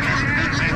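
Ducks at a busy outdoor market make a brief, dense burst of overlapping honking quacks, close and loud for under a second.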